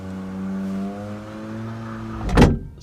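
Electric windows closing on a Mercedes S-Class W111 3.5, a hand-built classic: a steady whining motor hum with a gently shifting pitch, ending in a brief thud as the glass seats shut, close and clear.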